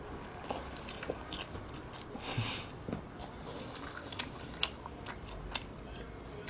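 Crispy honey curry fried chicken is bitten and chewed in a run of soft, irregular crunches and smacks, quiet and close, with no talking.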